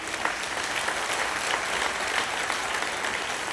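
An audience at an honouring ceremony claps in dense, continuous applause, loud and even throughout without talk.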